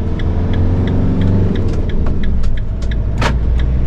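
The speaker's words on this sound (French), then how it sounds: "Parce que cette route, il y a beaucoup de circulation." Cars stream along a busy road, a continuous loud rumble with engines passing close one after another and a brief bright hiss as one goes by, no voices.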